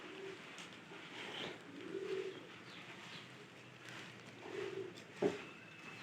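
Pigeons coo softly in a few low, rounded phrases, faint against steady background noise, with one brief sharper sound near the end.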